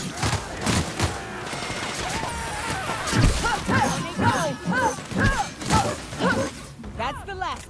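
Gunfire in a firefight at an outpost in The Outer Worlds, with sharp repeated shots and crashing impacts, loud and close, under and between character voices speaking.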